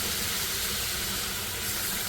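Milk poured into butter in a hot pan on low heat for a white sauce, giving a steady, even hiss and sizzle with no break and no talking.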